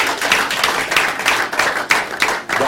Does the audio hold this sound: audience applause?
yes